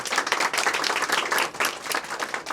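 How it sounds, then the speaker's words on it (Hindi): Audience of young students at a human rights event in Punjab applauds, dense continuous clapping filling the hall at steady loudness, no talk over it. "इसके लिए मैं चाहूँगा एक बार तालियों से सारे स्वागत करें।"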